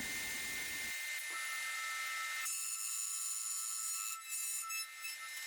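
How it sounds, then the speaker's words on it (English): High-pitched whine of a router with a 1/4 inch spiral bit and guide bushing cutting reliefs into a workbench tabletop, steady and close throughout, with small dips in load near the end. "I routed the reliefs into the tabletop."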